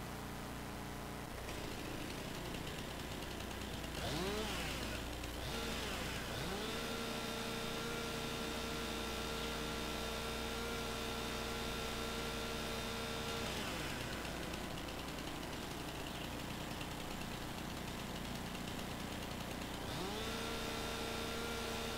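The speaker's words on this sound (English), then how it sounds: "Once you start the chainsaw" A chainsaw in Farming Simulator 19 runs continuously for over twenty seconds, its engine droning at a steady idle with a few revving swells and pitch bends.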